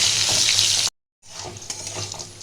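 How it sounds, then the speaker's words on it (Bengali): Potatoes sizzling steadily in hot oil with turmeric and salt, a close, continuous frying crackle that cuts out briefly and then resumes. "এবার এটা আমি একটু লাল করে ভেজে নেব।"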